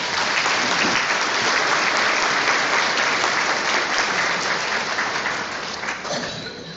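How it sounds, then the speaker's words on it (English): Banquet audience at a chamber of commerce awards dinner applauds in a long, dense, steady burst of clapping that stays loud throughout and tapers slightly at the end. "Please, let's give them a big round of applause"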